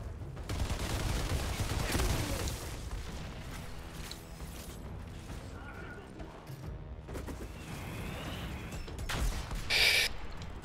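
Dense, crackling gunfire and explosive bursts fill a chaotic firefight in Outriders, with mechanical clatter throughout and a sharper burst near the end.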